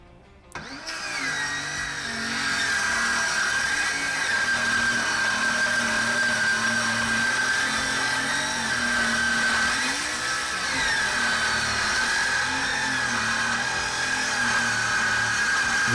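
A power tool cuts through the top and shelf of a woodworking workbench build, a loud, steady whine that runs unbroken for about fifteen seconds after a sharp start, close by and with no talking.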